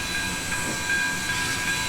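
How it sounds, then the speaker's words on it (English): In Trainz 2019, the bell of a Pennsylvania Railroad I1sa 2-10-0 steam locomotive rings in a slow, regular rhythm. The faint strikes sit under a constant hiss and rumble from the engine. "Of course, our bell."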